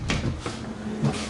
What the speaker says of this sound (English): If I come in through the back door